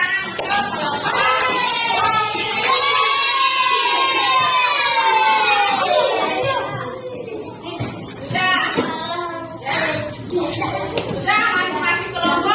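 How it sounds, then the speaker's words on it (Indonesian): Schoolchildren in a fifth-grade classroom burst into applause for a presenting group, a dense, steady clatter of many small hands mixed with excited children's shouts and voices, then easing into scattered chatter and a final flurry. "tepuk tangan untuk kelompok"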